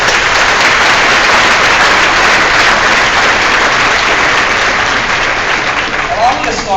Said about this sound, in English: Let's give them a warm Hokie round of applause.